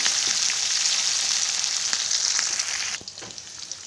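Onions, chillies and curry leaves fry in a pan with a loud, close, continuous sizzle. After about three seconds it drops sharply, leaving a softer hiss with scattered pops.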